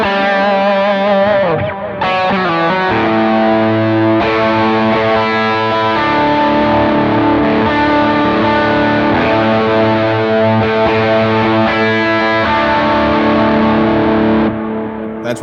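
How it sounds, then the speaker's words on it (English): An electric guitar played through a dual delay, with sustained chords and notes trailing off in layered repeating echoes that wash together, loud and continuous and without talking. "that's what it sounds like with a dual delay"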